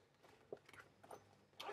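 A pink zipper on a small after-shower toiletry bag is pulled open in a few quick, short rasping strokes, close and fairly quiet, with no talking.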